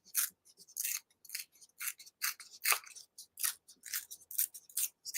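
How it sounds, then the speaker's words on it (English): Paper torn by hand down one side, heard as a quick series of short, close, crisp ripping bursts in an uneven rhythm. "we're just going to tear all the way down"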